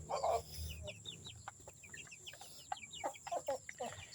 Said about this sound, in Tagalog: ang gaganda ng aking mga native chicken